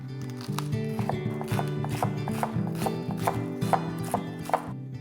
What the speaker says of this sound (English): 2 sticks of green onion, finely chopped